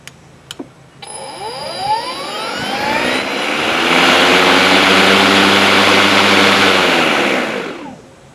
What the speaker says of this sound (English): to make the mower operate, you have to push the start button and then pull on the safety bar